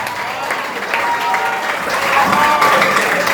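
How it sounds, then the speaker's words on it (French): A school contest final audience bursts into applause, a continuous steady clatter of many hands clapping that grows slightly louder through the short stretch. "Applaudissements."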